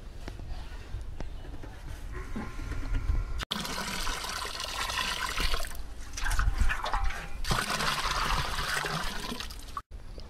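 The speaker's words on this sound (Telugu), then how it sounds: "ఇప్పుడు మనం తీసుకున్న 5 లీటర్ల ఆవు మూత్రం దీంట్లో పోయండి." Five litres of cow urine pour into a drum holding 100 litres of water while preparing neem pesticide, making a gushing, splashing stream in two long bursts with a trickle between, close and fairly loud.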